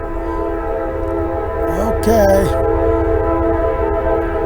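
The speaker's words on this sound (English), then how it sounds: "There's a train whistle." Over a steady low drone beside a river, a distant train whistle sounds twice in quick succession, short rising-and-falling tones, while someone speaks briefly nearby.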